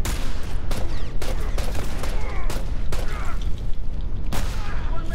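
Gunfire in The Last of Us Remastered: several sharp, loud shots crack at irregular intervals over a dense, noisy game soundscape.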